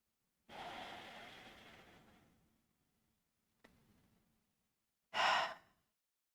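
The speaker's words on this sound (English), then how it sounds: "And we'll take a couple deep breaths here." Deep breathing during a yoga stretch: a long, slow exhale that fades, a faint short breath, then a sharper, louder inhale, each close and quiet with silence between.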